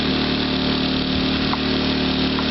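A portable inverter generator runs at full throttle with eco mode off, a steady, loud mid-pitched engine hum with no change in pace, alone and close by.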